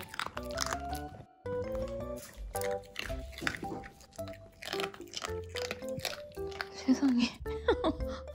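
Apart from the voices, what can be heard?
dogs crunching roasted sweet potato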